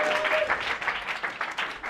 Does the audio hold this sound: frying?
no